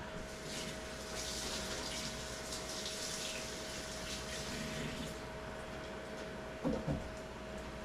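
Tap water running steadily to rinse a knife, a broad continuous gush with a faint hum beneath and a couple of brief knocks near the end, no speech.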